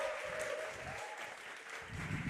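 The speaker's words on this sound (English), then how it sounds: "let's go ahead and give a round of applause for Jake Sin." A live esports audience at a VCT Pacific Valorant match, GEN vs. TS, applauds Jake Sin on stage. The clapping is a steady, fairly faint and distant wash that swells slightly toward the end.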